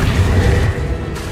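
Confringo blasting spell in Hogwarts Legacy, a sustained loud booming burst with deep rumbling low end that holds for about a second before tapering off.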